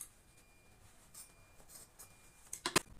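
Scissors snip through excess elastic on a handmade visor turban sun hat, faint rustling at first, then a quick cluster of two or three sharp close cuts at the end.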